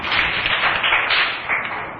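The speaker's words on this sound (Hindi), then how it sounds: "शाबाश, ताली बजाओ।" A classroom of children claps their hands together, a dense, steady patter of many small palms held for about two seconds with no pauses.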